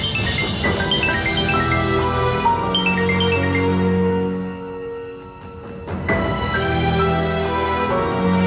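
A mobile phone rings with an incoming call, its bright electronic melody repeating loudly and close, dropping away briefly midway before starting again.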